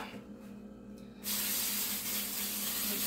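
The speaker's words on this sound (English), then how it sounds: "You want to spray the bottom of your pan." Coconut oil cooking spray hisses from an aerosol can onto the bottom of a baking pan for peach dump cake, a sudden steady spray that starts after a quiet moment and holds without a break.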